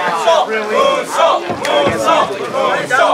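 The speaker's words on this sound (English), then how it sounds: "Fan cheering for a moonsault." A live wrestling show crowd chants and cheers loudly for a moonsault, rhythmic waves of many voices rising and falling close around the listener.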